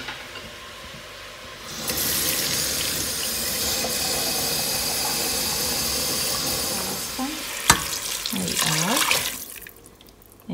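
A kitchen tap runs a steady stream of water for cooking, filling roughly 700 ml, with a hiss lasting several seconds before it shuts off with a few clinks and splashes.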